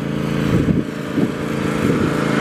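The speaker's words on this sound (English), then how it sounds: "if this lady wasn't here mowing the yard, you could hear this better" A lawn mower engine drones steadily nearby, a constant buzzing rumble with slight wavering in pitch and no other prominent sounds.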